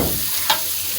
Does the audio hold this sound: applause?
no